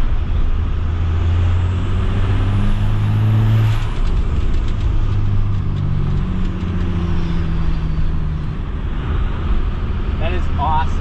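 A 12-valve diesel truck with its exhaust brake engaged gives a loud, steady low rumble and drone that holds for several seconds, with a pitch sweep near the start and wind noise over it.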